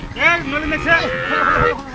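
Cattle at a rural cattle market moo repeatedly and loudly nearby, several drawn-out calls overlapping with background crowd noise.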